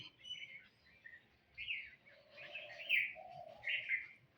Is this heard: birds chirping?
yes